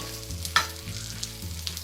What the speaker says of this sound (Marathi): चला तर आता आपण परत पलटून घेऊया मच्छी